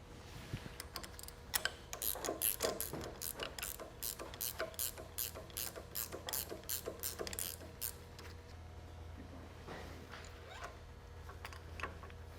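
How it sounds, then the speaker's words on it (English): A 3/4 inch wrench ratcheting lock nuts off a regen solenoid during maintenance: a quick run of rhythmic metallic clicks, close and fairly quiet, then a few slower clicks later. "I'm going to take the lock nuts off with our 3/4 inch wrench"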